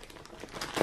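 Compostable plastic bags holding spinning fibre crinkle briefly and softly at close range, a short rustle swelling toward the end.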